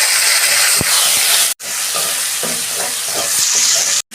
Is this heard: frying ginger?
yes